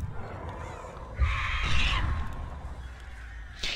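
Crows released by the Artist in Dead by Daylight give a few harsh caws at moderate distance over low game ambience.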